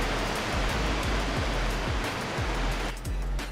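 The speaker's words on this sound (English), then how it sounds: "We got our huge waterfall here." A huge waterfall in Farming Simulator 22 gives a broad, steady rush of falling water, loud and constant, with faint low thumps underneath and no talk.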